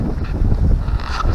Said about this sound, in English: This is obviously flapping around the wind.